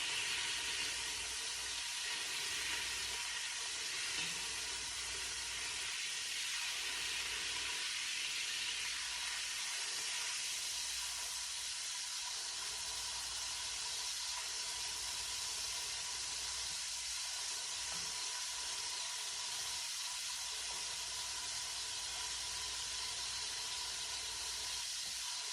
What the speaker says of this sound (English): my pan is on medium high as I'm searing this meat